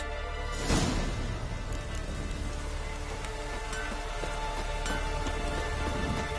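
Steady rain falls across the open world of The Witcher 3, a dense continuous patter with a brief louder burst near the start, carrying on unbroken with no talk over it.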